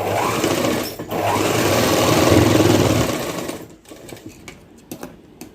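An electric sewing machine runs in a loud, continuous whir while stitching the shoulder seams of a baby gown, pausing briefly, then stopping, leaving soft handling clicks of cloth and machine.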